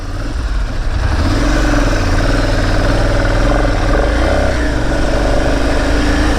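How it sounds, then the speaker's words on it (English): A Ducati Monster 795 motorcycle engine with stock exhausts runs loud and close, a deep continuous rumble with slight shifts in pitch and no voices. "This thing's sound is massive, is what I can say, even with the stock exhausts."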